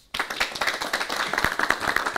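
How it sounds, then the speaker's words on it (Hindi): Audience applause at a youth career-guidance programme: dense, steady clapping from many hands starts abruptly and continues throughout, fairly close and without talk. "अगर जोश बढ़ाओ तो तालियां बजाएं"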